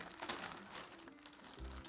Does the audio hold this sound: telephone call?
no